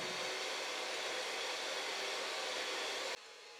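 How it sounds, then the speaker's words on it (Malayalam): Electric mixer beating unsalted butter at high speed for a fruit cake, a loud, steady whirring hum running continuously, then cutting out abruptly near the end. "ആദ്യമേ ബട്ടർ ഒന്ന് നല്ലതായിട്ട് ബീറ്റ് ചെയ്തെടുക്കാം അഞ്ച് മിനിറ്റ് ഹൈ സ്പീഡിൽ ഒന്ന് ബീറ്റ് ചെയ്യാം"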